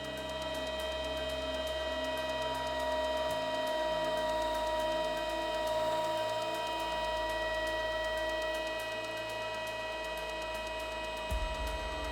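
Lathe spindle running while a taper is cut by hand-wheel feed, giving a steady, continuous machine hum with a low drone that shifts in pitch partway through and again near the end. No voices.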